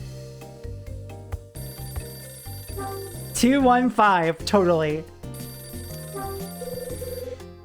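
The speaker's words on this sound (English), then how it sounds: "The phone. Again." Repeated electronic telephone ringing from the Nintendo DS game Hotel Dusk: Room 215 pulses through a tinkling in-game melody, with a person talking briefly over the middle.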